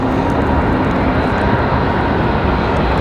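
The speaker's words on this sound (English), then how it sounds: "Grumpy saying that Embraer owned by Carolina Air Ltd. Says E190 flying an hour 34 from New Orleans." An Embraer E190 jet at Raleigh-Durham International Airport gives off a constant, loud, broadband engine roar that stays steady throughout with no voices.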